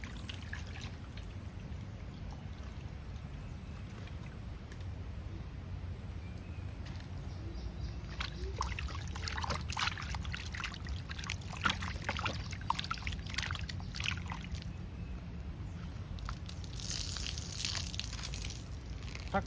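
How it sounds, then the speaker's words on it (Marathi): Water is poured steadily over raw chicken being washed in a home kitchen, a continuous splashing trickle with a brief louder gush near the end and no talking. "चिकन धुवून घेऊया आपण आता मस्त"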